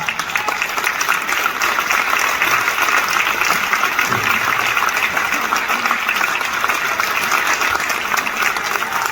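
Sustained audience applause fills a feminist meeting against pension reform, a dense, steady wash of many hands clapping at even loudness throughout, with faint voices mixed in.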